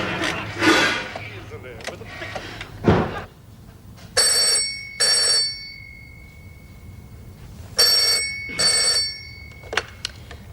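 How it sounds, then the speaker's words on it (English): An old landline telephone rings in a home, giving two double-trill bursts a few seconds apart, clear and close, after some brief knocks and household movement, with no talk. "I'll give Meg a ring."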